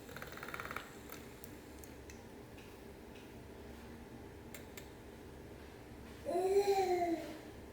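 A baby babbles softly in the background of a quiet kitchen, one short rising-and-falling vocal near the end, faint with light ticking clatter before it.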